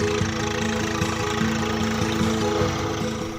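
A tractor engine runs in a village in Gumla, Jharkhand, India: a loud, continuous low diesel drone with a steady knocking pulse, close and unbroken.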